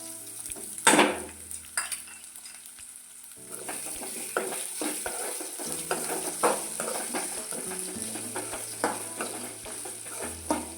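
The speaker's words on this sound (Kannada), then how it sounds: "ಈರುಳ್ಳಿ ಕೂಡ ಫ್ರೈ ಆಗಬೇಕು ನೋಡಿ ಈ ರೀತಿ ಫ್ರೈ ಆದಮೇಲೆ" Onions frying in a pan for a curd-based greens curry, a steady close sizzle broken by scraping and clinks of a spoon stirring against the metal, with no one talking.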